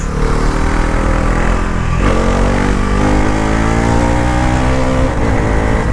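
A 2026 Bajaj Pulsar NS 350z, a 350 cc ride-by-wire motorcycle, droning loudly and steadily while being ridden, its engine note shifting slightly in pitch as it pulls along.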